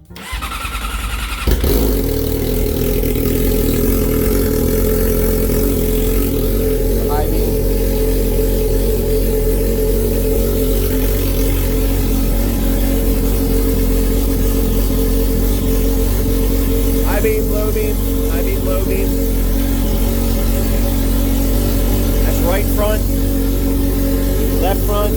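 A 2019 Yamaha YZF-R6 sport bike fires up abruptly and then settles into a loud, steady, close idle that hums on for over twenty seconds, with faint voices and occasional small clicks in the background.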